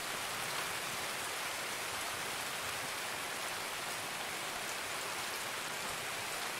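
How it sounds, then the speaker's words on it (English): Heavy rain in Escape from Tarkov pours down in a dense, steady hiss of drops striking surfaces, loud and constant throughout with no voices or other sounds over it. "The rain is so loud."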